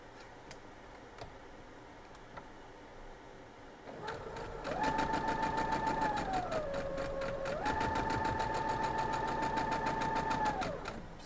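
Home sewing machine stitching quilt block pieces, starting after a few faint clicks into a steady rapid mechanical whirr and needle chatter, briefly slowing midway before speeding up again, with no talking.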